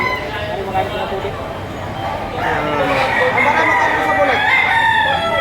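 Roosters at a livestock market in Padre Garcia, Batangas, with crowing and clucking under steady nearby talk and crowd noise.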